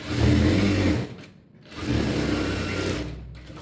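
A sewing machine stitches a blouse seam in two close bursts of steady mechanical whirring, split by a short pause, with no talking.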